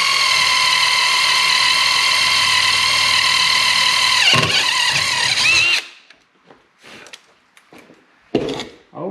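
A power drill whines steadily at high pitch for several seconds, bores a pilot hole through angle iron for a Kubota M7060 tractor steering shaft, then stops, followed by a few scattered clinks and scrapes.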